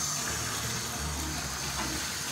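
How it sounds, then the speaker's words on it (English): Warm water runs steadily from a tap through trombone parts during cleaning, a continuous close gushing and splashing with no voices over it. "Now we're going to run some more water and run it through each part of our horn."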